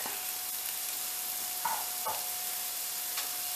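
Peppers, onions and garlic sauteing in a pan give a soft, steady sizzle, with a few light stirring scrapes and taps over a faint constant hum.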